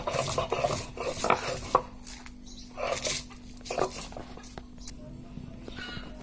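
Chilies and salt are ground into a paste with steady rhythmic rasping strokes, each a close, gritty rub that comes in short bursts with brief pauses and fades toward the end.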